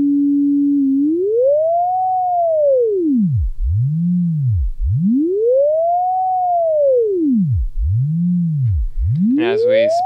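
An Intellijel Shapeshifter oscillator plays a steady sine tone that is bent by LFO frequency modulation into slow, repeating upward and downward swoops. The sound is loud and alone, with a faster wobble starting right at the end.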